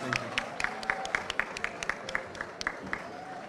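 Scattered, uneven clapping from a small group at a Model United Nations closing ceremony, individual claps distinct and spaced out, with no voices over it.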